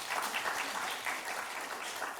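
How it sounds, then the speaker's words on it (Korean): A church congregation claps during a Sunday service, a steady burst of applause heard slightly distant and moderately quiet for a couple of seconds. "박수 한번 해줘요"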